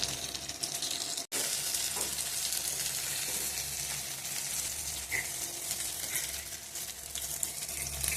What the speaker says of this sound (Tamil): கருவேப்பிலை கொத்தமல்லிலாம் இந்த மாதிரி போட்டு எண்ணெயில் நல்லா மீனை வறுத்து எடுத்தோம்னா